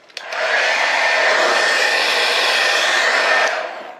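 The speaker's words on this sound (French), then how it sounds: "je t'ai ramené le sèche-cheveux de maman ou de papa" A hair dryer runs off a portable power station, kicking on with a steady, loud airy whoosh that holds for about three seconds before winding down.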